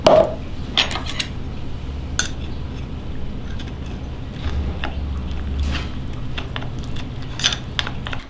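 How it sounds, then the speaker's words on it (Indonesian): Wheat flour being stirred into liquid milk in a bowl, with repeated clinks and scrapes of a utensil against the dish over a steady low background hum. "ada susu cair kita tuang ada terigu kita cairkan dengan sebagian susu"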